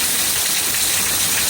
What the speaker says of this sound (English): just showing y'all what a little bit of rain we are getting here in East Texas